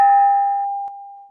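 A single struck bell opening a Rotary Club meeting rings out clearly, its bright tone sustaining and slowly decaying over about a second and a half, alone with no talk.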